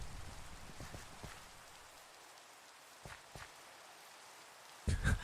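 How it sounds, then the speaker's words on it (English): Rain patters steadily in a game set in The Citadel's Low Town, a soft, even hiss with occasional louder drop taps and a sharp thump near the end. "I didn't realize we had a rain command now."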